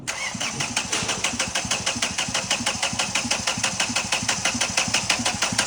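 Kia Cerato 1.5 CRDi diesel with a damaged engine and no fuel in its system, cranked repeatedly by the starter in a fast, even rhythm of loud pulses, close by, with no talk over it.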